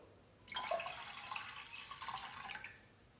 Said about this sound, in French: De l'eau du robinet.